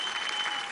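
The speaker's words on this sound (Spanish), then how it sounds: "Fuerte el aplauso para Pachuco." Studio audience on a Spanish-language variety show applauding, a dense steady wash of clapping that fills the whole short moment without breaks.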